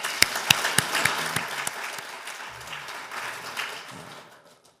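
A church men's fellowship gathering claps in thanks for its traffic team; a few sharp, distinct claps open before swelling into steady group applause that gradually thins and fades out near the end.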